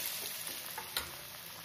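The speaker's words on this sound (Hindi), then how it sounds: "और एक डीप कढ़ाई में इसको फ्राई करेंगे।" Upma bites deep-frying in hot oil in a kadhai, giving a steady, dense sizzle up close with a few small pops and one brief clink partway through.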